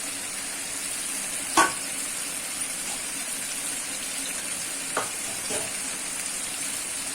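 Ginger paste drops into hot oil in a frying pan while cooking potol korma, a steady close sizzle with a couple of brief clanks and stirring knocks.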